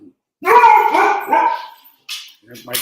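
A pet dog barks loudly several times in close succession, followed after a short pause by a couple more yips and whimpers, with no talking over it.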